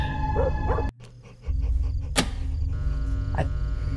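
A dog barks a few times in the horror video game Fears to Fathom, Carson House episode: short, sharp yelps spaced apart over a low, steady ambient drone, with a brief dip into quiet partway through.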